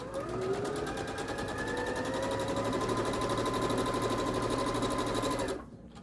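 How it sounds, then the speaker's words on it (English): Running steadily and close, a sewing machine stitches a quarter-inch seam on a quilt block, its motor whine rising slightly in pitch while the rapid needle pulses continue, then cutting off near the end. "we're going to sew a 1/4 inch down either side of this line"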